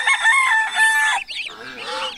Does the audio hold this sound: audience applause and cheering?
no